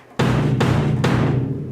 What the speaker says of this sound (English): the bass drum that you play with your right foot